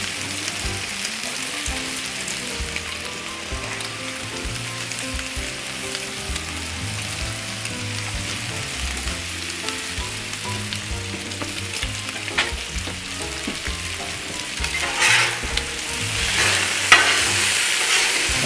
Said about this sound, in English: So now I'm going to go ahead and start cooking the bread. I'm going to start toasting it.